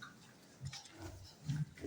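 Low grunts from a pregnant sow come in a few short bursts, close by, with quiet barn background between them.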